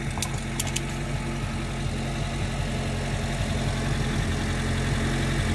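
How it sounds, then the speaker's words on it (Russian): A BMW M50B25 straight-six engine idles smoothly in a repair shop, a close, steady low hum with even pulses and a few brief metallic clinks near the start. "Движок ровно работает, да?"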